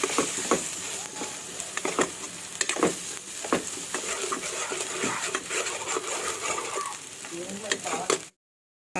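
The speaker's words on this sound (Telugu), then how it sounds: "అల్లం వెల్లుల్లి పేస్ట్ పచ్చివాసన పోయేదాకా వేయించుకుందామండి" Ginger garlic paste sizzles and fries in a pan for street-style veg manchurian, with a steady crackle broken by sharp scrapes and clinks of a stirring spoon, then an abrupt cut to silence near the end.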